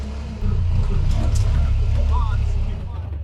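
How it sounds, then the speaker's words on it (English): A side-by-side off-road vehicle drives with a steady, loud low engine rumble that persists through the clip, with people's voices faintly audible over it. "This is a side-by-side off-roading vehicle."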